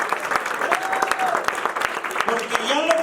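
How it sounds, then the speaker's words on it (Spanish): A church congregation claps loudly in praise during a sermon on Christ's resurrection, a steady dense patter of hands with a voice rising over it near the end. "Denle fuerte el aplauso al Señor en la resurrección de Cristo"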